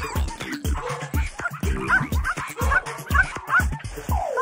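Small dogs yip, whimper and bark at a pet grooming and bathing shop in an animated film scene, a rapid close series of high yelps over other busy noise.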